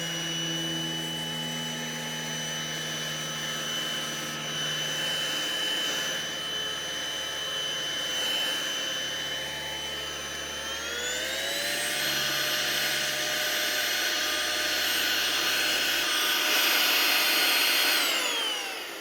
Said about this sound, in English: let's try to use the blower for this